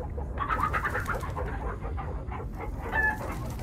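Chickens in Minecraft Story Mode cluck in short, repeated bursts over a low background rumble.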